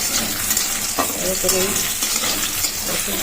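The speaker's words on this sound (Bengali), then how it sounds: "এখন আমার বেগুনের বেগুনটা ভাজা হয়ে গেলে" Eggplant frying in hot oil in a home kitchen, a steady close sizzle with brief stirring scrapes and crackles throughout.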